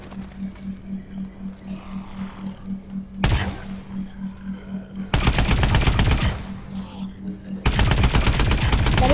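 Rapid automatic gunfire from the Widowmaker in a zombies video game, loud sustained bursts of machine-gun fire that start and stop in several stretches over a low steady hum.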